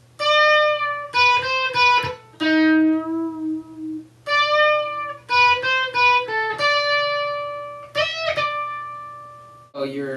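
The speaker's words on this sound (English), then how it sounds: "So your entire solo sounds like this." Electric guitar plays a whole solo, a loud close run of sustained and quickly picked distorted notes over a constant low hum, with short breaks between phrases and no voice.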